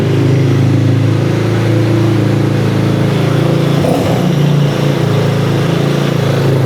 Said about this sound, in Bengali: এই তো দেখেন গাড়ি স্টার্টে চলে গেছে